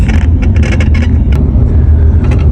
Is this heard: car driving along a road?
yes